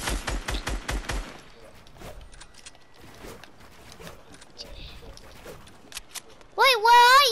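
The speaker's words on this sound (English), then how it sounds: "I'm going to use a grenade launcher!" Rapid burst of weapon fire in a shooting video game, about six sharp loud shots in quick succession, followed by quieter game sounds and a voice toward the end.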